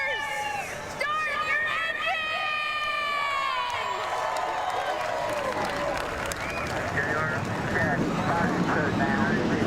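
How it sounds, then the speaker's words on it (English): Forty-two stock car engines fire up in NASCAR Racing 2003, with rising, whining revs that swell into a dense, continuous roar filling the field, while a voice talks over them. "42 Target Series engines fire off as we get ready for our finale"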